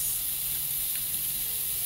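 Onions and garlic sizzle in butter in a pan while seafood pasta is being made, a steady, even hiss that stays fairly quiet and unbroken throughout, with no talking.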